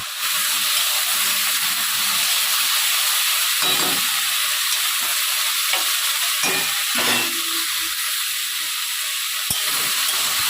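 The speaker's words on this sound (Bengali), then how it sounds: "এখন আমি দিয়ে দিলাম স্বাদ মতন লবণটাকে দিয়ে এটাও খুব ভালো করে এখন ভাজবো" Salted potatoes fry in a pan for poppy seed curry, giving a loud, continuous close-up sizzle with occasional stirring scrapes and taps throughout.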